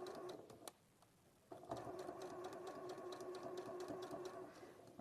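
A sewing machine runs steadily in short rhythmic bursts, pausing briefly before starting again with a continuous mechanical whir and fast repeating clicks, heard close and fairly quiet with no talking.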